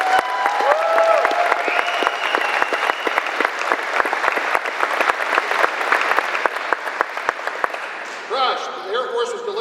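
Audience applause at an Air Force wing change of command ceremony, a sustained crowd clapping that tapers toward the end, with scattered voices and brief tonal sounds near the close.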